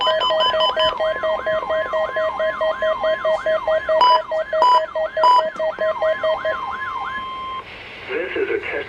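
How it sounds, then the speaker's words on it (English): NOAA Weather Radio warning alarm device during a routine weekly test: a loud, steady electronic tone with a rapidly warbling sweep, a few short bursts partway through, then an abrupt change before it cuts off. "This is a test of NOAA Weather Radio's warning alarm device"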